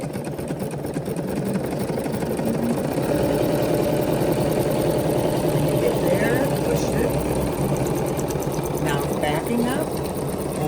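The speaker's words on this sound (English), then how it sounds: "let's go ahead and start sewing" A BERNINA sewing machine stitches continuously, a steady fast mechanical chatter heard close and loud throughout, with a voice talking quietly underneath.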